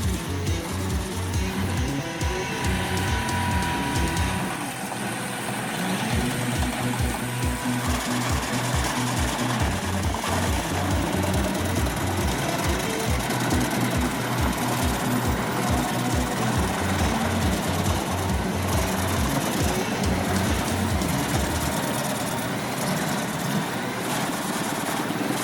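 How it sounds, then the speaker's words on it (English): A Diamant 2000 wood chipper runs steadily and loudly throughout, a dense mechanical drone with a fast repetitive chopping pulse from its chain-free drive, no voices over it. "The Diamant 2000 is a serious contender in the chipper market."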